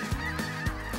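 Geese honk during a goose and duck hunt outdoors, with four loud, close calls spaced roughly evenly over about a second.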